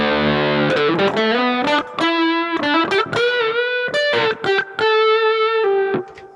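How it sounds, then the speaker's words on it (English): Electric guitar through a BOSS GT-1000 Core modelling a Mesa Boogie combo amp, playing a melodic phrase of sustained notes, each followed by repeating echoes from a delay effect, loud and close. "Now we engage this, we get our delay."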